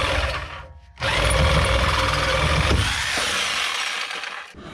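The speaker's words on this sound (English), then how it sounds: "I'm just going to take the recip saw and cut through both of those" A reciprocating saw cuts through exhaust studs on a first-generation Cummins truck during front leaf spring shackle work: a loud, continuous, rasping buzz runs close up for several seconds after a brief pause, then tapers off.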